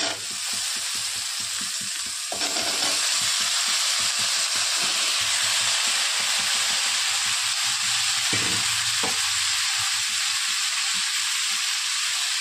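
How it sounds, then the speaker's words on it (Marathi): Chopped potatoes and a pinch of asafoetida hit hot oil in a pan, setting off a loud, steady sizzle with intermittent stirring scrapes, close by and uninterrupted by speech. "आता टाकत आहोत थोडंसं हिंग आणि बटाटे चिरून घेतले आपण"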